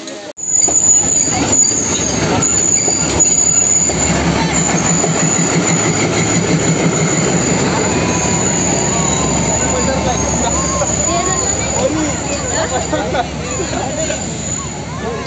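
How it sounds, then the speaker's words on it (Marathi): Matheran toy train running on the hill railway, a loud continuous rumble of wheels with squealing rails and clicking joints close by, while a crowd chatters and voices talk over it throughout. "टुन्नू मिठू ट्रेन बघायला मिळाली ना."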